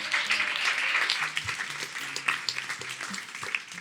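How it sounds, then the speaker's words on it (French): An audience applauds, with dense clapping that starts full and gradually thins into scattered claps, heard at a moderate distance in an indoor setting. "Applaudissements s'il vous plaît"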